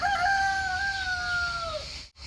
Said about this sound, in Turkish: Bizim horozla komşunun horozu kavga ediyor.